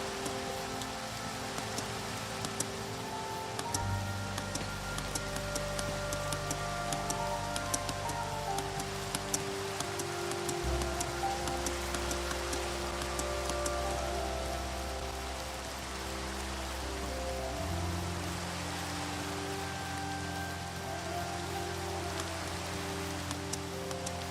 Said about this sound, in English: Oh, thank goodness, the rain stopped.